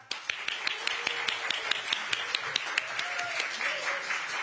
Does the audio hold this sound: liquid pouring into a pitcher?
no